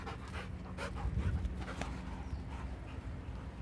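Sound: two shelter dogs panting while playing

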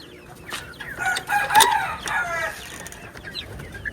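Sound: native chickens clucking in a cage on a farm

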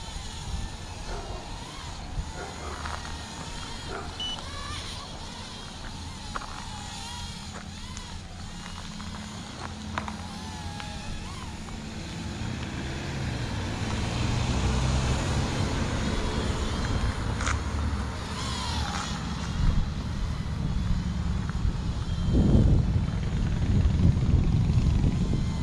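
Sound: Voyage Aeronautics VA-2080 mini drone flying

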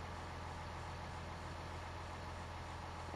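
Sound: tractor engine in video game Farming Simulator 19

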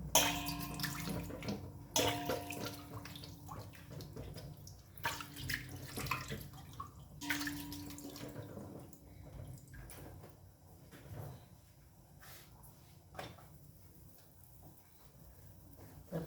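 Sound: taking water from a tap

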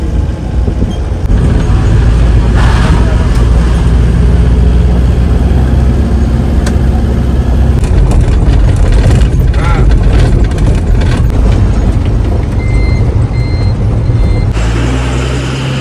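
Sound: bus engine arriving

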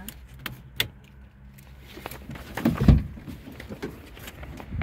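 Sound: car keys jangling

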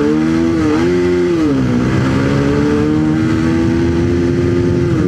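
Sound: Bajaj Pulsar 220 motorcycle accelerating in first gear

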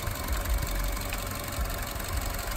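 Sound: Ford F150 engine revving

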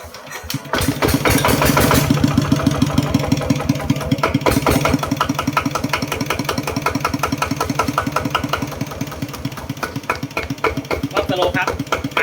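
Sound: Kubota 11 hp diesel engine running

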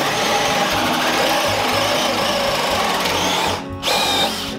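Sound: power drill boring into wood

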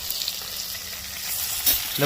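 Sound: vegetables frying in oil for shukto

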